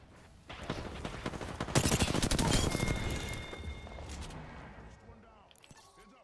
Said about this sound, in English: Shit, being shot at.